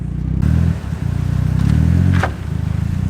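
A car engine revving as a woman drives off, a loud, close, steady engine drone that surges and dips, with a brief scraping rattle in the middle and no voices.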